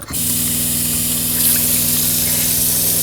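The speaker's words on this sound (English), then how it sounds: "start filling this up with cold water" Cold water gushes from a pump tap into a container inside a van, a steady loud spray close by over a low engine-like hum.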